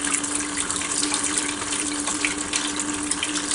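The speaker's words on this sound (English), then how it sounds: "Put it in the water a little bit there. It's a completely sealed turbine." A completely sealed bladeless turbine runs submerged in water under a running faucet, giving a steady, close rushing and splashing of water with a faint constant motor hum beneath, no voices.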